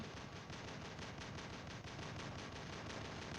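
Shooting video game gunfire: a dense, continuous rattle of rapid shots at steady volume, played alone without talk.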